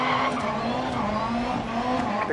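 A rallycross car running the Joker lap, its engine holding a steady droning note with tyre scrub and skidding, loud and sustained throughout.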